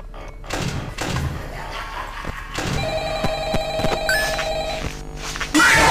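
A telephone rings in the Ultimate Custom Night horror game, a repeating electronic trill among thumps and slams, fairly loud, with a voice speaking partway through.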